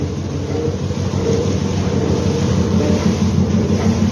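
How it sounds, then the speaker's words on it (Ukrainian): A pellet granulator driven by a powerful motor runs at full tilt, a loud, steady mechanical rumble and drone that never lets up. "А це гранулятор."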